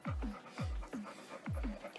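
A dog panting close up, in quick, steady, rhythmic breaths that repeat evenly with no other sound over them.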